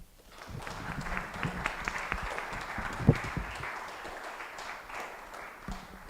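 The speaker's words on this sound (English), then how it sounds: "Oh, keep clapping as they take their seats." A conference audience applauds in a steady wash of clapping that lasts several seconds and then gradually thins out, with a little faint talk underneath.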